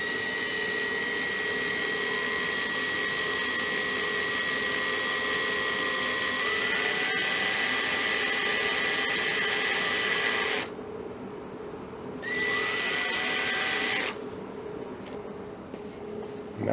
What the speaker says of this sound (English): So we're going to take that and first drill out this piece.